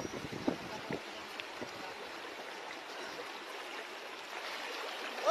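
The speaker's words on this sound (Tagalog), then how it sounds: "Medyo malakas pa din yung agos." A strong river current rushing after a typhoon on Sibuyan Island, heard as a broad, steady wash of flowing water with occasional splashes and a louder surge at the end.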